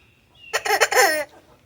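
A single loud, harsh squawk from a rubber chicken toy, lasting under a second, stands out sharply against near silence.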